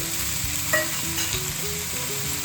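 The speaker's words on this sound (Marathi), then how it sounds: "याच कढईमध्ये तेलामध्ये कांदा पाल चांगले परतून घ्यायचे" Sliced onions sauté in oil in a kadhai while making Jalgaon-style brinjal bharit, giving a close, steady sizzle with a brief clink of the stirring spoon.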